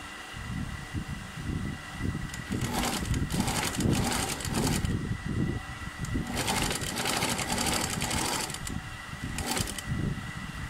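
A sewing machine stitching a seam on a jean-style jacket runs steadily in close, loud bursts of rapid needle chatter with brief slowdowns and pauses, continuous throughout with no talk.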